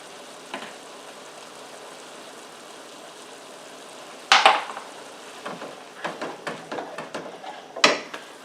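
Garlic dropped into browning ground meat in a skillet for one-skillet spaghetti meat sauce, a soft steady sizzle with sharper crackles and scraping stirs breaking in partway through.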